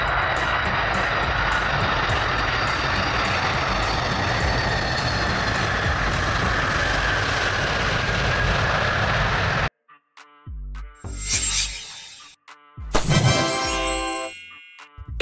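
A huge six-engine jet cargo aircraft sends out a loud, continuous roar for several seconds. Then it cuts abruptly to short, scattered tonal and mechanical sounds.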